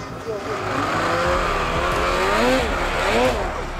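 A snowmobile climbing over deep snow at Monts-Valin, its engine revving in short bursts of throttle, with the pitch rising and falling loudly and close by.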